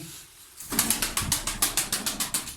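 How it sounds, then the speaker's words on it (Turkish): Pigeon wings flap in a steady run of quick, loud beats, close by, after a brief quiet start. "Kanat sesi falan güzel değil mi?"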